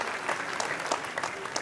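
An audience claps for the organizers at an Italian cultural event, a dense, continuous patter of applause from a crowd at moderate distance.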